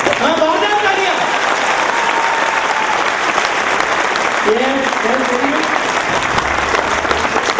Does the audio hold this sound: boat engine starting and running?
no